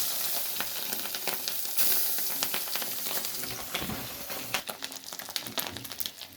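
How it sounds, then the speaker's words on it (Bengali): Fish roe frying in oil in a wok makes a continuous loud sizzle and hiss, with crackling pops that grow busier toward the end. "এখন আমি মাছের ডিমগুলো ভেজে নিব ওই কড়াইতে ওই তেলটার ভিতরে ডিমগুলো ভেজে নেব"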